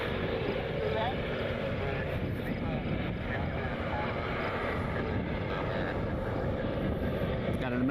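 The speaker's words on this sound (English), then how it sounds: "Got an American Eagle E-Jet heading for departure, and maybe a United 737, I think is the other one heading out here" An American Eagle E-Jet taxis out for departure at Cleveland Hopkins International Airport. Its steady jet engine rumble holds at a constant, moderate distance while a voice talks over it.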